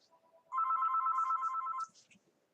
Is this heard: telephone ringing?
yes